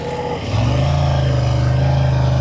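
A Ducati XDiavel V4 motorcycle engine lugs in second gear in Touring mode, a steady low rumble that swells into a loud sustained drone close by.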